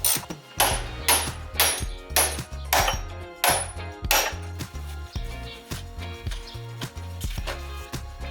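Repeated metal hammer strikes knocking a steering ball joint out of the knuckle on a 4x4, about a dozen sharp, close, ringing blows in an uneven rhythm, each followed by a brief metallic decay.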